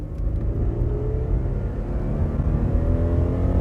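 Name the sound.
2008 Ford Taurus X accelerating hard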